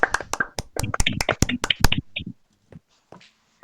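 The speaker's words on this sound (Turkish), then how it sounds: "İbo Bey sayesinde. alkışlıyoruz." A few people in a Minecraft Bedwars game session with friends clap for İbo Bey: a close burst of rapid hand claps lasts about two seconds, then trails off into a few faint taps.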